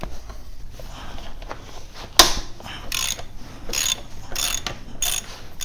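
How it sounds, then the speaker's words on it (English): A ratchet wrench clicks while loosening the rear axle nut on a Sur Ron electric bike, with a sharp snap as the nut breaks free followed by bursts of close, rapid ratcheting. "what we're going to do is loosen the axle first. So we put the 17mm on this side, 6mm on the other."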